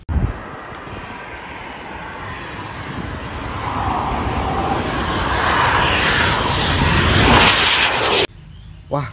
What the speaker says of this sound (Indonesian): Di sini ada pesawat terbang.